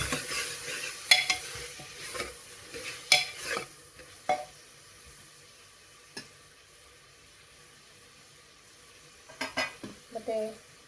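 Ginger garlic paste frying in a pan for chicken curry, a soft steady sizzle broken by irregular metal spoon scrapes and clinks against the pan, with a quiet stretch in the middle and no talking.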